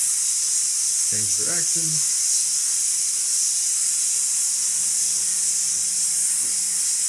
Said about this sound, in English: something you can do when steaming and cleaning grout lines